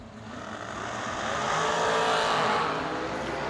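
Drag race cars launching down the strip, a loud roaring engine wash that builds and swells over a few seconds, then eases slightly as they pull away.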